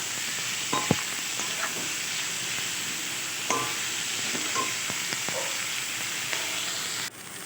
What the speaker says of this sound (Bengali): পেঁয়াজটা ভাজার সময় আমি দিয়ে দেবো লবণ এটা পেঁয়াজটা একটু নরম হবে